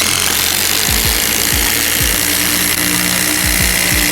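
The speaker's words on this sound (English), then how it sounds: "We're going to drive these huge timber screws down through 9 inches of tannalized timber." A Ryobi cordless drill whines steadily and loudly, with repeated low thuds as huge timber screws bite down through 9 inches of tanalised timber.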